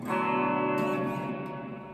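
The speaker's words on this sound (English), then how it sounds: "when I use the reverb side of it, it's heavily reverbed" A sustained electric guitar chord rings out with heavy reverb, its wash of sound lingering and slowly fading.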